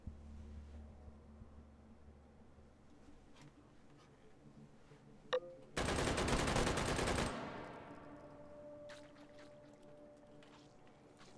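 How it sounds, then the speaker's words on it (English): An MG42 machine gun fires in the video game H3VR, a single rapid sustained burst of roughly one and a half seconds, loud against a quiet background, followed by fading mechanical clatter. "MG42 is going to take a bit of skill to use in this mode."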